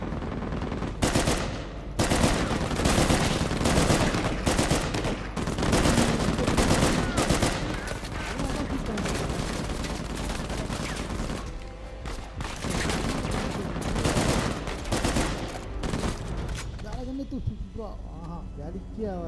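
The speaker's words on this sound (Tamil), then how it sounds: "அங்கேருந்து அடிச்சிட்டு இருக்கான் ஸ்னைப்பர்" Gunfire from the video game Uncharted: Legacy of Thieves, including sniper shots, comes as loud, dense bursts of repeated shots through most of the stretch, with a voice talking over the game audio.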